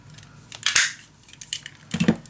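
Scissors cutting a paper corner for a winter mini album, a few sharp crisp snips and rustles close up, with a louder cut near the end.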